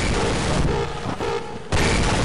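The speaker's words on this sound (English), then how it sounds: "Stop the explosions." Dense, continuous explosions and rumbling booms from the video game Half-Life: Opposing Force, loud and close, easing off briefly before surging back in. No voices can be made out.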